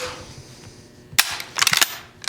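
Sharp mechanical clacks of a shotgun action being worked, a quick burst of metallic snaps near the end after a brief quiet stretch.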